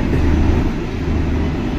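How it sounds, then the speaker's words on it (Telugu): A Garib Rath express train on the Secunderabad to Visakhapatnam route arrives at a station platform, heard as a steady, loud, low rumble that fills the whole moment with no voices over it. "ఆ ట్రైన్ ఇప్పుడు వచ్చేసింది"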